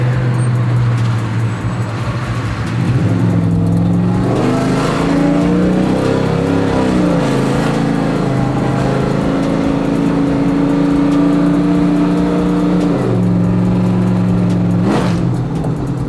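A loud car engine revs repeatedly, rising and falling in pitch, with a steady throaty idle between bursts and no voices.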